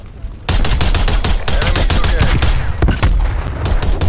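Rapid, loud DMR-14 rifle gunfire in the shooter game Black Ops Cold War: dozens of sharp, closely spaced shots in continuous bursts with only brief gaps, close and dominant throughout.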